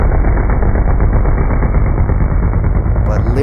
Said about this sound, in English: these pro bikes blast off the line